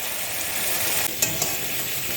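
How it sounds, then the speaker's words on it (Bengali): Chicken, potato and soya masala fry in a pan, a close, continuous sizzle while it is stirred, with a couple of light clinks from the spoon against the pan. "দিয়ে ভালো করে এটাকে মিক্স করে ভেজে নেব"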